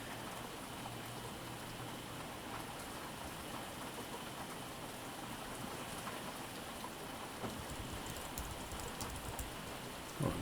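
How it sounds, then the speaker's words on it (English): Steady rain falls outdoors as a faint, even hiss with scattered patter, continuous and unbroken, heard from indoors at a distance with no one talking. "really raining out there"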